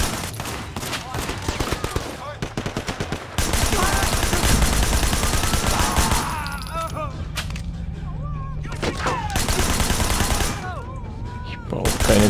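Rapid bursts of video game gunfire from Sleeping Dogs during a wedding shootout, dense and loud throughout, with repeated shots and volleys layered over music and effects and brief voices.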